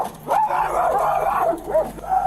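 A woman barks and yips at a police dog, imitating the animal with rising, wavering howl-like yelps in several quick bursts, close and loud.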